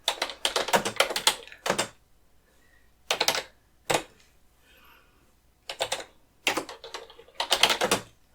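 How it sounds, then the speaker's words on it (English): Blood pressure readings are recorded during a soft-spoken ASMR cardiology exam roleplay, heard as close, crisp bursts of keyboard typing separated by short pauses. "I'm just going to write those down"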